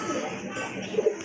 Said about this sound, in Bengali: এটা হচ্ছে ইন্ডিয়ান লোটন কবুতর